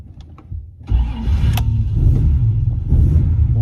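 A 1955 Jaguar XK140 SE engine cranks and catches, settling into a loud, steady, close rumbling idle with no talk over it.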